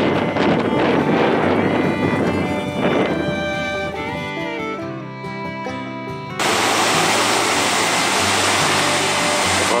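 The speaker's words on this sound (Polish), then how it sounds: "Wodospad na Białej Lądeckiej w Ołdzychowicach Płockich." Waterfall on the Biała Lądecka river in Ołdzychowice, Kłodzko Valley, during a winter thaw: steady broadband roar of rushing water, loud and continuous, briefly shifting in tone midway before a brighter, hissing rush takes over.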